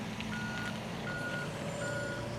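A truck beside a harbourside bridge crossing in Fremantle sounds steady reversing beeps, three evenly spaced tones over a constant engine rumble and traffic, clear and at mid distance, with no speech.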